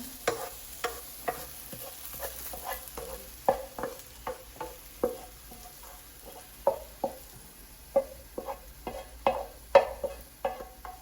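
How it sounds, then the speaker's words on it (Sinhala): Garlic being fried and stirred in a pan for garlic prawns, with a soft sizzle under regular scraping strokes of a utensil, close and moderately quiet, no voices. "ඔන්න ඔය ගානට මේ ලුණු ටික බැදෙන්න ඕන"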